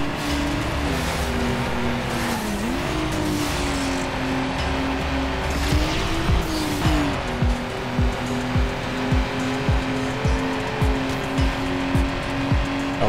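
Race car engines roar steadily with tire squeals and a run of rhythmic thumps in the street-racing game Need for Speed: Underground, loud and close, with no talking.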